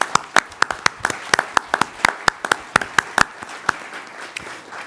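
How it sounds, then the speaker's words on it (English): A small audience at a maritime symposium on sea lane safety gives a brief round of applause, sparse, distinct claps ringing out over a soft room wash, the clapping loose and uneven rather than thunderous. "I hope you can join me with a round of applause"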